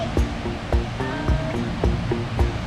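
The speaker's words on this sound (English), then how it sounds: "We've come to see the waterfall." Kakabeka Falls in its provincial park gives a steady, loud broadband roar of falling water, continuous and unbroken, with faint thumps and a brief tone drifting over it.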